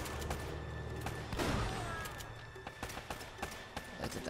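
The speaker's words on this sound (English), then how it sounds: "I think that shotgun really blows him away." Shotgun fire and gunfight sounds in the video game Uncharted: Drake's Fortune, a burst of booming shots followed by repeated sharp impacts amid game noise.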